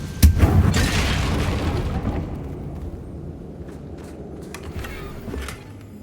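A Confringo blasting spell in Hogwarts Legacy sets off a deep boom that rolls into a rumbling, decaying blast, followed by a few faint scattered crackles and debris sounds.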